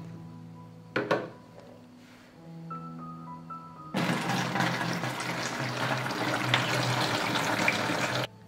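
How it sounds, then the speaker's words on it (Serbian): Tap water pours into a bottle after a few faint clinks and knocks, becoming a steady, close rushing stream that fills the rest of the clip. "sada ću flašu napuniti vodom"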